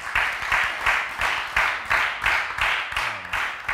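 Studio audience clapping for a doctor on a talk show, rhythmic bursts of applause pulsing about twice a second, moderately loud and steady with no talk over it.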